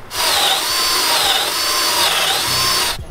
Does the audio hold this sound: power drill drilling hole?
yes